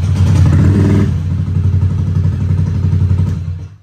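A bored-up automatic scooter engine turned over by its ACG starter, a loud, close churning clatter that strains for about a second, then settles into a steady rough idle-like chug before cutting off.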